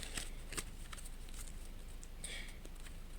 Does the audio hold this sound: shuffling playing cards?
yes